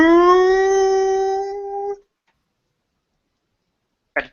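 A man imitates a wolf howl with his bare throat, one long sustained rising tone lasting about two seconds, then silence and a brief sharp noise at the end.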